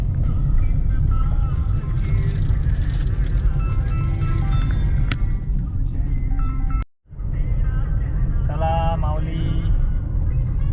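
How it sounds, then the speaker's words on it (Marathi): A car on a long road trip home hums with a steady, loud interior engine and road drone that briefly cuts out near the end. "रोशन माऊली गाडी चालवत आहेत"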